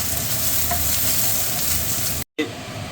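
Green chillies and curry leaves frying in a pan for a Kerala-style moru curry, with a constant close sizzle and occasional stirring scrapes, briefly cut by a moment of silence.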